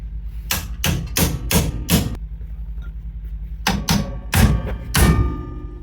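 Metal hammer blows strike a ball joint on the front suspension of a 1968 Chevrolet Camaro SS 396, first a quick run of five sharp, loud knocks, then a pause and another cluster of four heavy whacks close by.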